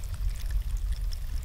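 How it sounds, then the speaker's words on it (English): A small stream of water flows steadily, part of an off-grid micro hydro setup, giving a continuous close gurgling wash with no voices. "right over there, we see flowing water"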